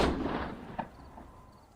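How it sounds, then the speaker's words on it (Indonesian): Repeated pistol gunshots in the film Don't Breathe, a loud opening blast followed by fainter, decaying shots and echoes. "langsung menembak terus-menerus."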